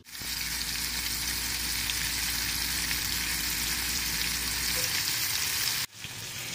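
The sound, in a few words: floured chicken pieces frying in oil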